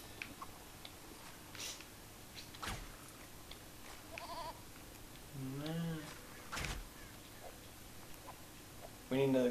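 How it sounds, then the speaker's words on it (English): A goat in the Lego Lord of the Rings video game gives several wavering bleats, moderately loud among game effects, with people talking in between. "A goat!"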